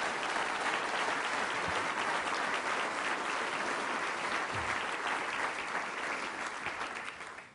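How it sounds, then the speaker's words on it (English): An audience at a State of the City event gives Peggy Frank a sustained round of applause, thick, even clapping that holds steady before tapering off at the end. "Let's give Peggy a round of applause."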